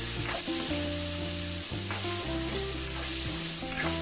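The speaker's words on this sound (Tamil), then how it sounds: "அதையும் இதில் ஆட் பண்ணி நல்லா ஸ்மாஷ் ஆகிற வரைக்கும் நல்லா வதக்கி விட்டுக்கணும்" Sliced onion and tomato sauté in oil for a mutton gravy, a continuous close sizzle and stirring hiss heard beneath melodic background music.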